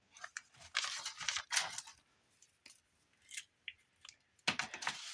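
Scissors snip and cut paper while trimming pieces for a handmade fairy craft journal, a series of close crisp cuts in uneven bursts with short pauses between, no talking.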